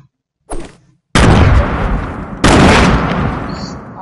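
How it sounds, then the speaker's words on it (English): Grenade explosions in a video game: a small pop, then two loud, heavy blasts about a second apart, each with a long rumbling tail filling the clip. "I'm gonna throw grenades"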